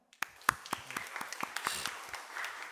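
Scattered applause from a small church congregation during a Sunday service, starting with a few claps and building into light, uneven clapping in a room.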